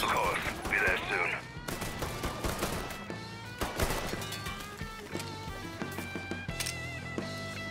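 Gunfire from a shootout in the video game Mafia III, a dense spray of sharp shots and crashes crowding the whole stretch over a busy game soundtrack, with voices talking in places.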